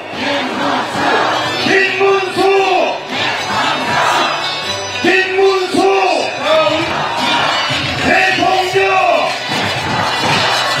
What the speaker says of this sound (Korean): 그럼 박수로 맞이시기 바랍니다